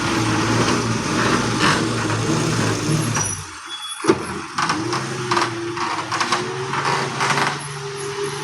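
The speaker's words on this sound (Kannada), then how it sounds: "ಗಾಡಿ ಬರ್ತಾ ಉಂಟು ಇಲ್ಲಿ." A truck bringing a load of soil to a house rolls in close by, its engine droning steadily with a brief hiss like an air brake midway, then idling and rumbling on.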